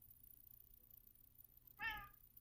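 One short, faint meow from a cat in a quiet room, rising briefly near the end.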